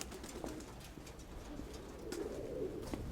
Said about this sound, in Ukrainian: Собака моя там ганяти голубів.